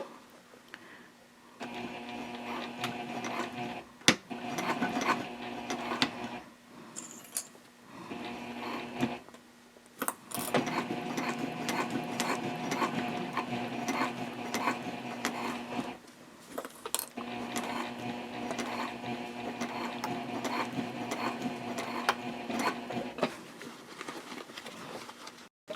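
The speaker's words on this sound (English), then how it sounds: "So we're going to go ahead and sew this on right now" A home sewing machine set to stitch length 3.0 runs through fabric pieces with a 1/4 inch seam allowance, humming in steady bursts with brief pauses between runs, close and moderately loud.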